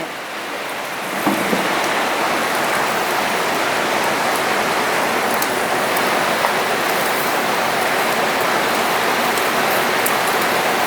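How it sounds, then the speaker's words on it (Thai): Steady heavy rain pours down, a dense continuous hiss with a few faint patters, close by and unbroken. "ได้ยินเสียงฝน"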